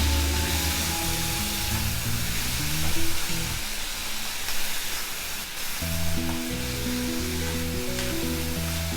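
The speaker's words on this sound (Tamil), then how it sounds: "தக்காளி பழத்தை சேர்த்துட்டு நல்லா வதக்கிக்கலாம்." Chopped tomatoes sauté in a hot pan for aloo gobi masala, a steady close sizzle running throughout, with a faint melodic tone beneath.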